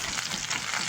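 Pieces of taro (maan kochu) hitting hot oil produce a brief, dense crackling sizzle, steady and close for about a second.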